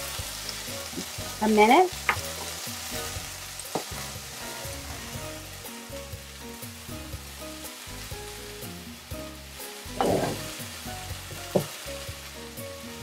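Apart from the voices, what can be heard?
teriyaki chicken stir-frying in a pan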